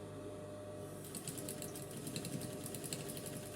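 A sewing machine stitches an inseam pocket: a steady rapid mechanical chatter of needle strokes starting after a second of low hum, continuing evenly and fairly faint, with no talk.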